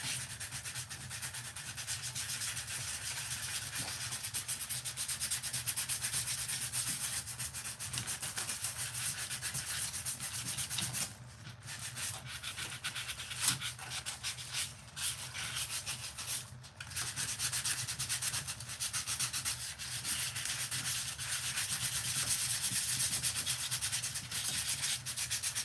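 Sanding on a pumpkin creature sculpture makes a steady, continuous rasping scrape that runs close and loud throughout, with only a few brief dips in the stroke and no talking.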